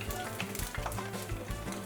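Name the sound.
chicken wontons frying in hot oil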